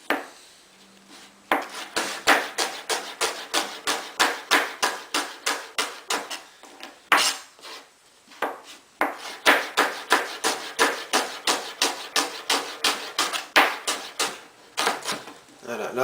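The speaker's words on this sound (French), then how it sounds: "On va juste la couper grossièrement, juste émincer en fait." Rapid, rhythmic knife chops strike a cutting board as a shallot is roughly sliced, in quick bursts with brief pauses between runs; close and fairly crisp.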